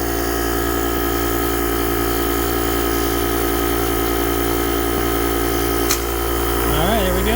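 JomGand JQP2250 portable jump starter air compressor running, a loud steady buzzing motor drone with constant tonal hum, close to the microphone throughout.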